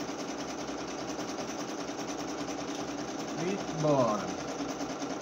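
A sewing machine runs steadily throughout, stitching a patchwork cotton dish towel with tricoline fabric borders and bias binding, its even whirring rhythm continuing while someone briefly talks near the end.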